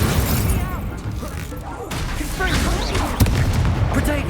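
Fiery Incendio spell cast in the Hogwarts Legacy video game, a loud burst with crackling whooshes over a dense, busy game soundtrack, lasting a few seconds.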